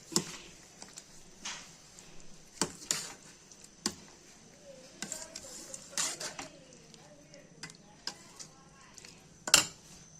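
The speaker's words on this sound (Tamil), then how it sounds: "இப்போ நம்ம மிக்ஸ் பண்ணிக்கலாம்" Sugar being stirred into mango kesari, a sweet semolina dish, in a pot: scattered clinks and scrapes of a spoon against the vessel, sharp taps at irregular intervals over a faint background with soft voice-like sounds.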